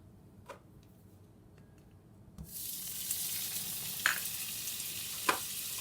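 Butter hits a skillet on low heat: after a quiet stretch with a few faint ticks, a soft steady sizzle starts and continues, broken by a couple of brief clinks, with no speech.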